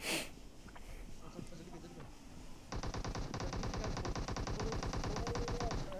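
Automatic gunfire in the PUBG battle royale game on the Livik map: a long, rapid, steady burst of loud shots begins partway through and continues to the end, following quieter game ambience.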